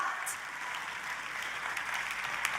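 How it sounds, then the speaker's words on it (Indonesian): Steady crowd applause at a church sermon, a dense wash of clapping that fills the whole moment with no voices on top. "hari ini saya mau mendengar tepuk tangan yang paling meriah."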